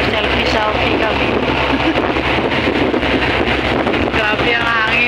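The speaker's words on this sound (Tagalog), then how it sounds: "So windy." Strong wind buffets the microphone in a constant roar on the way to Pulau Ubin island, with a voice faintly audible beneath the gusts and a hint of engine or water noise.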